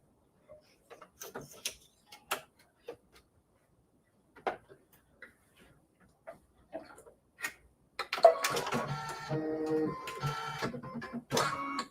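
An embroidery machine stitching a mini quilt gives scattered soft ticks and taps at first, then settles into a denser, steady mechanical whir with repeated clicks near the end, all faint and close.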